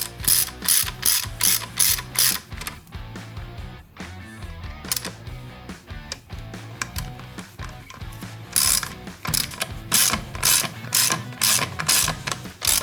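Self-tapping screws are tightened into a motorcycle radiator with a ratcheting tool, giving bursts of rapid clicking that pause and resume, close up and moderately loud.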